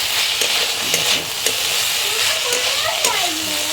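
Jackfruit seed curry is stirred in a pan on an electric heater, a close steady sizzle and steamy hiss broken by a few soft scraping strokes, with brief voice-like sounds in the background.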